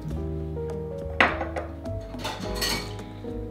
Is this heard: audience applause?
no